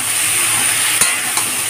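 Cut potatoes and pointed gourd tossed and stirred in a pan of oil over a low gas flame for a vegetarian curry, giving a steady close sizzle with a couple of brief utensil knocks.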